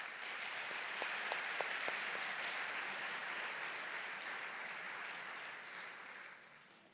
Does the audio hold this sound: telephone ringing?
no